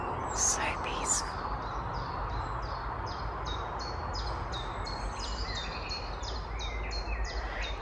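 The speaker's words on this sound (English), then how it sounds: "So chiff-chaff and blackbird I can hear." Outdoors beside a narrowboat, a chiffchaff repeats its rhythmic two-note chirps in a steady run, with a blackbird also said to sing, faint over a constant low rumble and breeze.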